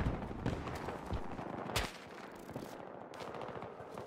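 Sniper and other gunfire in the video game Battlefield 2042, a dense clatter of shots with a sharp loud crack near the middle, then continuing firing at lower level, with no talking.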